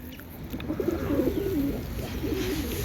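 Tumbler pigeons coo outdoors, a few soft, moderately close rolling calls in quick succession against a steady breezy background.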